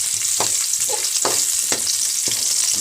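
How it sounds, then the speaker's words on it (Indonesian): Ginger and garlic sizzle steadily in hot oil in a wok, a loud continuous frying hiss broken by several rhythmic scraping stirs of the spatula. "panaskan kuali, letak sedikit minyak, masukkan dulu halia dan bawang putih"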